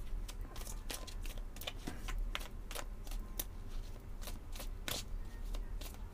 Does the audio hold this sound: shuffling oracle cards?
yes